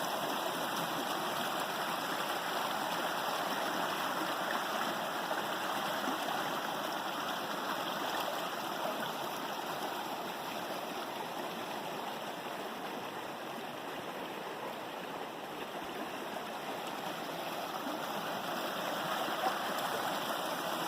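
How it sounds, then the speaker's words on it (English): Bartlett Brook's small rapids, stirred up by fallen trees and branches in the stream, rush in a steady, even wash of water that sounds moderately distant and continuous, with no voices. "It looks like there's a little bit of rapids going on"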